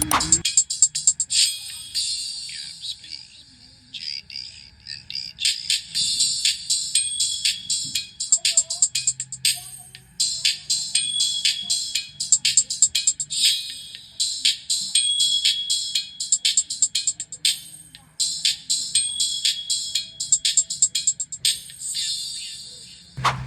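Bright, sharp high-pitched tones from a 4-inch, 300-watt bullet tweeter playing music-like bursts, loud and trebly with almost no bass, continuing for a long stretch.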